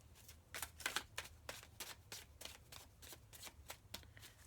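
Tarot cards being shuffled by hand, a fast run of crisp riffling bursts that repeat in an even rhythm, close and fairly quiet, with no voices.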